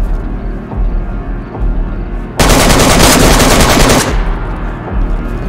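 Gunfire in the video game DayZ: a loud, dense burst of rapid automatic shots lasting about a second and a half, cutting sharply over a quieter outdoor game ambience.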